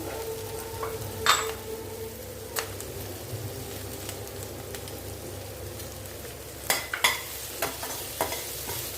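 Onions sizzle in a pan while a spatula stirs and scrapes them, with sharp clacks of the utensil against the metal over a soft, steady fry.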